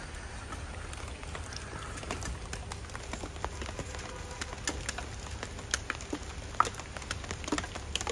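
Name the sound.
rain falling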